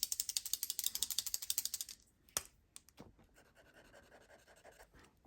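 A Super Golden paint marker is shaken hard close up, a fast rattling of the mixing ball clicking in a rhythmic burst for about two seconds, then a few faint taps and handling noises in a quiet room.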